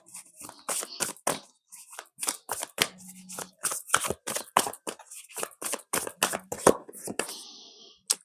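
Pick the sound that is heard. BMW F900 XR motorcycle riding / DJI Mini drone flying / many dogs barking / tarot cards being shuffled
tarot cards being shuffled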